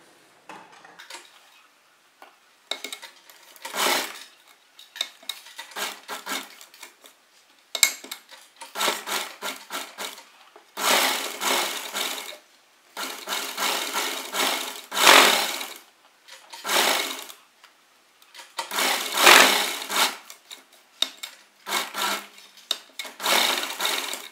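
Sewing machine stitching along the edge of an anarkali kurti, heard as close, loud bursts of rapid mechanical whirring separated by short pauses as the fabric is repositioned.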